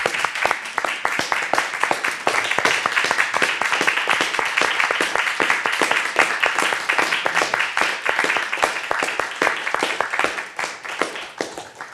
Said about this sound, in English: deserve a hearty round of applause